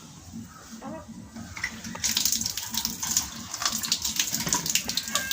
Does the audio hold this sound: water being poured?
yes